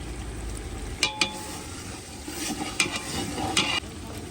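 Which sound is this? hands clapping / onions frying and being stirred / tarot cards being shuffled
onions frying and being stirred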